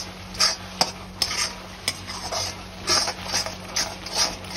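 A spoon stirs vinegar and soy sauce into street-style macaroni in a pan, giving repeated scraping and clinking strokes at a brisk, steady rhythm.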